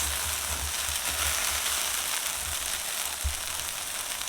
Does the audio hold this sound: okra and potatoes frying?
yes